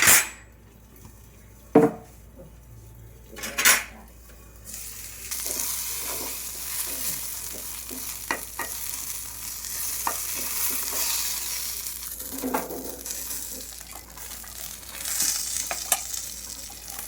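Ridge gourd and coriander fry in a pan, first with a few loud scrapes and knocks of a utensil, then a soft continuous sizzle. Scattered stirring clinks come over it, close and moderately quiet.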